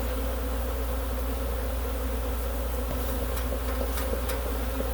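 An aggressive swarm of honeybees buzzes around an open hive during an inspection, a dense continuous drone with steady hum layers, loud and close throughout, with no voices.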